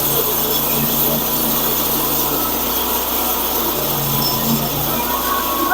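A sawmill blade cuts through a locust log into 3-inch-thick slabs for cannon wood restoration, a steady, loud grinding whine with constant dusty rasping that runs unbroken throughout.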